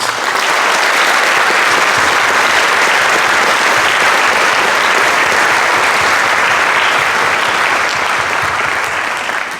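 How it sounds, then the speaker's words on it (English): Sustained, loud audience applause for student musicians at a high school wind symphony winter concert, a dense, even wash of many hands clapping that holds steady for the whole stretch. "So how about one more round of applause for all these students?"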